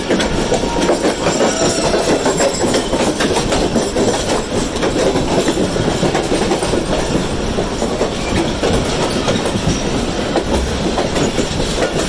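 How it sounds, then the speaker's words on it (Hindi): The Zakaria Express, hauled by an AG 30 locomotive, approaches on the Nawabshah to Karachi line. A loud, close, unbroken rumble of wheels and clattering carriages fills the whole stretch. "AG 30 के साथ एक ट्रेन आ रही है सामने से। होपफुली ये ज़करिया एक्सप्रेस ही होगी।"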